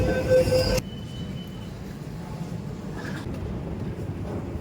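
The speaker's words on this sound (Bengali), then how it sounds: "প্রথমবার শিয়ালদা থেকে হাওড়া মেট্রো করে যাচ্ছি" A Kolkata Metro train running between Sealdah and Howrah rumbles steadily from inside the car, a loud opening burst with a high tonal whine giving way to a constant low rolling drone and faint squeals.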